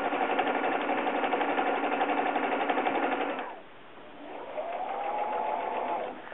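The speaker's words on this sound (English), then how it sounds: "I'm actually going to use the pressure of the shock cord to try to hold the foot in place as I sew along this line" A sewing machine stitches webbing and shock cord for a hammock under quilt in two sustained runs of rapid, buzzing stitching. A brief dip separates them, and the second run starts slower and picks up speed.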